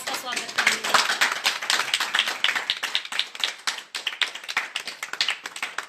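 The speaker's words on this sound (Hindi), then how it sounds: "आइए हम सब जन ताली बजाते हुए परमेश्वर का और परमेश्वर के दास का स्वागत करेंगे।" A church congregation claps to welcome the preacher, sharp rhythmic hand claps in a steady beat that carry on throughout, close and lively, with some voices mixed in.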